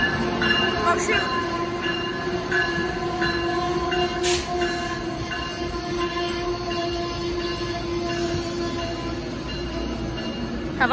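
An Amtrak locomotive-hauled train passes at Elizabethtown, Pennsylvania, with a steady rumble of rolling cars, wheel squeal and a brief horn note, holding a fairly constant loudness throughout.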